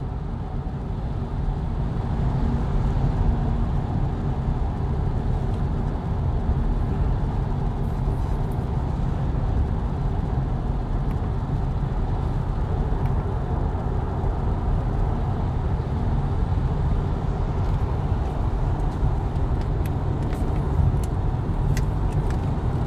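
Steady interior road noise in a BMW i4 M50 electric car on a long drive, a constant low rumble and tire roar filling the cabin without pause and with no voices.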